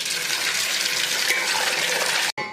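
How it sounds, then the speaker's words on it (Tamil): Running water rinses raw neymeen (seer fish) being washed for frying and curry, a steady loud splashing gush that continues alone before cutting off abruptly near the end. "மீனை வந்து கழுவி எடுத்துக்கலாம்."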